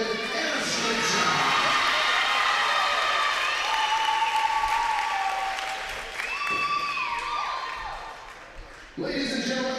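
A crowd at a college sports event between Trinity International and Roosevelt claps and cheers for departing seniors, loud sustained applause with shouts and whistles that tapers near the end before a fresh burst.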